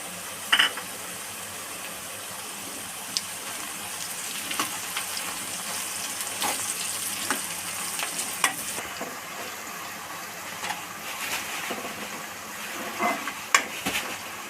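Chillies frying in hot oil for a chicken curry, a steady soft sizzle with occasional clinks of a pan and utensil, close and continuous, no voices.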